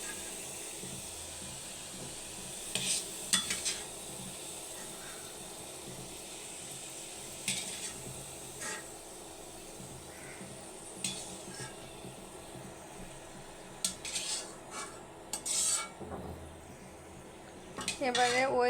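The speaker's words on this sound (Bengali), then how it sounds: "এখন আমি রসুনগুলো উঠিয়ে নিব।" Fried garlic is lifted out of hot oil for a taro-leaf bhorta, with sharp metal clinks and scrapes of a utensil against the pan over a faint, low sizzle.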